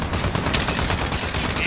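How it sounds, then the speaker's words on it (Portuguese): Rapid gunfire rattles steadily and loudly throughout, shots from a Call of Duty Modern Warfare special ops mission packing close together with no break. "Será que atirando eu consigo destruir ele?"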